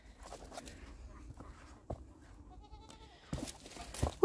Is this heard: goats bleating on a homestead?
yes